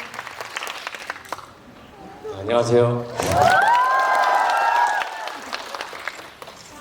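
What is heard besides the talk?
audience applause for actor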